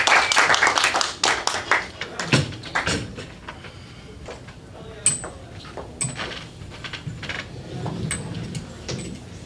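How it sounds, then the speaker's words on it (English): Audience clapping at an open mic night, a burst of sharp, close handclaps that quickly thins into sparse scattered claps, with a few clinks and soft room sounds after it. "Clap it up for him."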